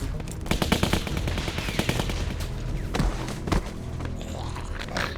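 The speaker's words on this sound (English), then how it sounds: "I didn't know we had automatic guns." Rapid automatic gunfire bursts in The Walking Dead Season 2 video game, dense overlapping shots with loud thumps over a noisy in-game background.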